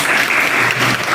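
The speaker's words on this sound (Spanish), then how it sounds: "Un fuerte aplauso, por favor." Loud, dense audience applause at a university medicine debate on abortion, a steady wash of clapping that fills the whole short stretch with no voices over it.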